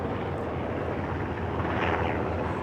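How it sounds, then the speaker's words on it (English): Several helicopters fly overhead on a stormy day, a steady, dense engine and rotor rumble from a distance that swells slightly without fading. "Look at all the helicopters in the sky."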